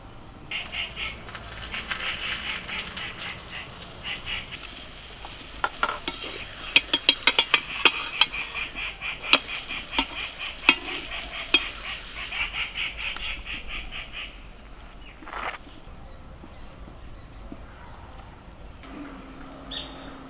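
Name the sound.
aloo parathas frying in a pan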